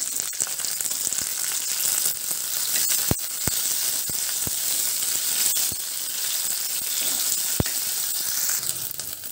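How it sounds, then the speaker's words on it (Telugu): Large cut pieces of okra fry in a pan with a continuous crackling sizzle, broken by a series of sharp clicks and taps from a spatula against the metal at irregular intervals. "పెద్దగా కట్ చేసి పెట్టుకున్న బెండకాయ ముక్కలు కూడా వేసి వేయించుకుందాము"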